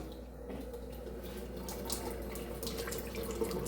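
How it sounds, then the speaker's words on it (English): Tap water streams steadily into a bowl holding leftover seafood-boil seasoning, a soft continuous splash and trickle that stays fairly quiet and swells slightly toward the end, with no talking. "I'm going to add a little bit of water in here."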